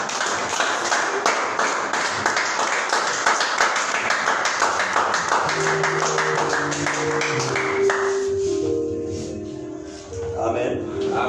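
A church congregation claps and cheers in acclaim for an apostle during a French-language service, a dense steady wash of applause that thins near the end as sustained tones, likely music, rise underneath.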